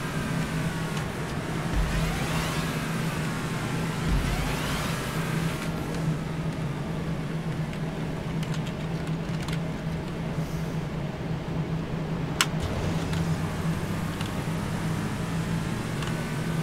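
Race cars in a GTA 5 Online drag race, with a continuous droning engine note under a hiss of road noise that barely changes, plus one sharp click partway through.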